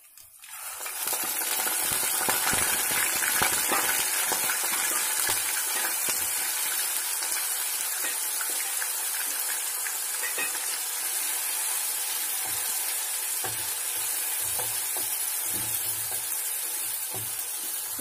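Curry leaves and onion paste fry in hot peanut oil, giving a steady, dense sizzle and crackle that starts abruptly and continues evenly throughout, with no voices.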